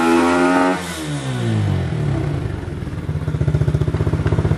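Coleman AT125UT mini bike engine with an upgraded carburetor and air filter revving hard: a loud, close engine climbs in pitch, drops back, then settles into a rough, pulsing idle.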